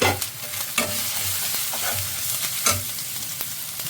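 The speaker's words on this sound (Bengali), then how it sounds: "একটু ভাজি যতক্ষণ না কাঁচা গন্ধটা চলে যায়।" Spices fry in oil for a chicken roll, giving a steady close sizzle. Rhythmic stirring scrapes and clatters recur throughout.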